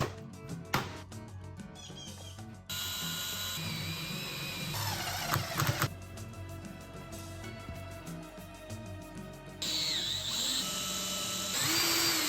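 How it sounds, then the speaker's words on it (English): A power drill whines steadily drilling and tapping holes in a metal plate, its pitch shifting as it starts and stops, with occasional clanks between runs and no talking. "So I needed to drill and tap holes to accept and hold on to"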